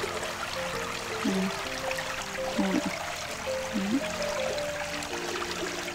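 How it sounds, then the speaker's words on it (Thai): Water rushing through a pipe beside a rice field, a steady broadband gush that stays constant, with a few short chirps standing out above it. "น้ำไหลดีเลย"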